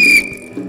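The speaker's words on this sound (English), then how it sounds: "do I hear a whistle?" A sharp, high whistle blast rings out loud for a moment, then trails off into a fainter steady tone over low background murmur at a lively stage event.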